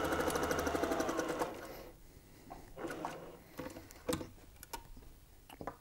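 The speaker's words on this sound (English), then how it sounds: "Back stitch for security." A sewing machine back stitches through fabric for a soft indoor ball, running fast and steady for over a second, then stopping, followed by faint handling clicks and rustles.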